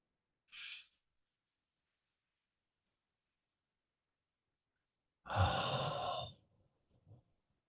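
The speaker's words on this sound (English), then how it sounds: "Let's breathe in and out together" Two slow, deep breaths during a guided relaxation meditation, a short soft inhale near the start and then a long, fuller exhale after a pause, close and quiet with silence around them.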